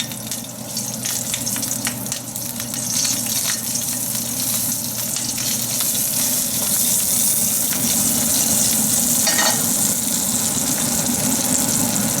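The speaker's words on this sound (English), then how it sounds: "So this is about 2 tablespoons of ghee. We'll do this, lower the heat. We'll add the green chilies." Green chilies frying in about two tablespoons of ghee over lowered heat, a continuous close sizzle that steadies and thickens after the first few seconds, with faint scraping underneath.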